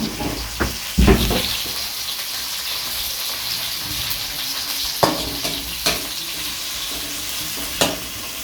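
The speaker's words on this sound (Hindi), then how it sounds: "हरी मिर्च, लहसुन, अदरक को इसको हम थोड़ा सा सौते करेंगे ताकि इसका हम पेस्ट बना सकें।" Green chillies, garlic and ginger sautéing in a pan, a soft continuous sizzle with occasional sharp clinks and scrapes of stirring, close and fairly quiet.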